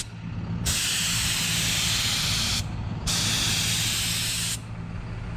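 A spray gun laying a second coat of automotive clear coat over a Rustoleum paint job: two long, steady hissing bursts of several seconds each, loud and close, with a brief gap between them over a low background hum.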